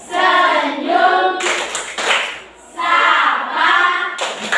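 A class chants in unison during a clapping cheer, with short bursts of rhythmic hand claps falling between the sung lines.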